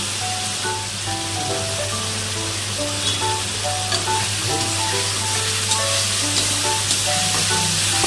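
Vadi, small dried lentil dumplings, frying in spiced oil in a vegetarian dish: a continuous, even sizzle with a low steady hum underneath and no voices.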